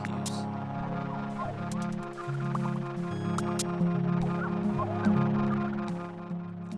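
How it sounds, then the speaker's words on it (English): Short synthetic chirps in the Mini Metro video game, signalling overcrowded stations, repeat in quick irregular bursts over a steady low musical tone, fairly loud and continuous. "These small, synthetic chirps are astonishingly evocative of a busy station, of crowds and impatience"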